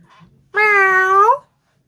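A human voice imitates a cat meowing. It is a single clear, drawn-out meow lasting under a second after a quiet lead-in.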